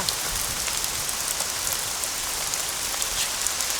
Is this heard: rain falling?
yes